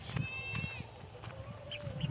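A goat bleats nearby in a short wavering call, followed by fainter bleats and some quiet background rustle and low voices.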